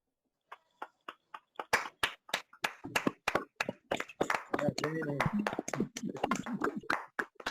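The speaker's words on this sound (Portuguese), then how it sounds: "dê uma salva de palmas para essas mulheres maravilhosas que estão na sala" A room full of people honoring the women present starts with a few sharp, separate hand claps and swells into lively, uneven applause, with voices and cheering rising beneath it.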